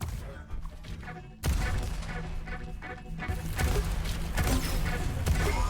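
Rocket launcher blasts in a Quake duel between two players: a sudden loud burst of explosive impacts and crashes, followed by dense, continuous in-game combat noise.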